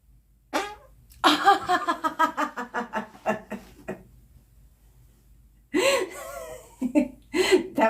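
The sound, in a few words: fart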